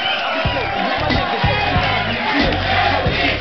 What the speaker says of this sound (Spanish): Un aplauso para María, que pasa adelante.